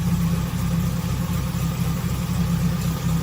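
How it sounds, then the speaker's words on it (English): An old car, unused for a month, idles on its own with a steady low engine rumble and a regular pulsing beat, loud and close. "I'm not touching it. It's idling on its own."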